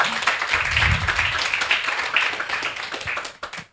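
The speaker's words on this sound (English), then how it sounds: "A big applause." Applause from an audience at a conservation pavilion panel, dense steady clapping that fills the room for several seconds, then thins and fades near the end.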